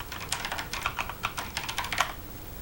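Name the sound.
typing on a computer keyboard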